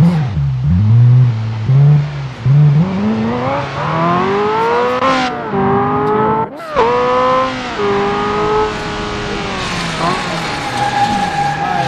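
A modded car engine in BeamNG.drive with a custom sound revs up and down repeatedly, pitch rising and falling in sweeps, with a brief dropout midway before revving again.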